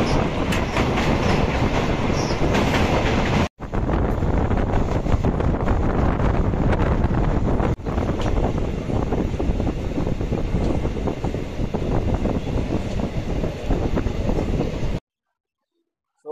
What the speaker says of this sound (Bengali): ট্রেন আসছে, হুইসেল মেরে দিয়েছে।